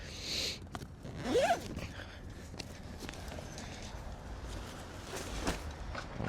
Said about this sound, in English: you unzip it, and then once we get this unzipped